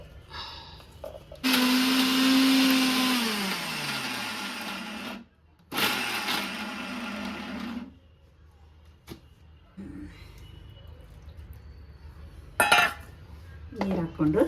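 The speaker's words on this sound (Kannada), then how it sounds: "ಇದನ್ನು ಹಾಕ್ಕೊಂಡು ಮಿಕ್ಸಿಯಲ್ಲಿ ಹಾಕ್ಕೊಂಡು ಚೆನ್ನಾಗಿ ರುಬ್ಕೊಳ್ಳಿ" A mixer grinder grinding soaked neem leaves with their soaking water into a paste, running in two loud whirring bursts with a falling pitch as the motor slows, then quieter handling clatter; someone speaks between runs.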